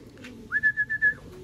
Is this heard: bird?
yes